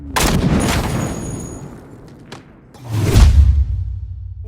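Rifle gunshots from a film action scene: a sharp blast at the start trailing into a decaying echo, a faint crack midway, then another heavy, booming shot with a low rumbling tail.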